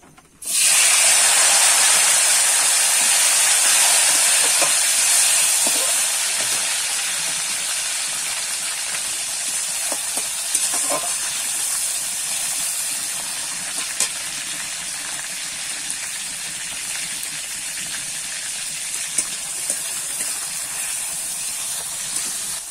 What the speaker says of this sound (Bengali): ফোড়নটা কিন্তু আমি ভালো করে ভেজে নিয়েছি। এবারে দিয়ে দেবো টমেটো।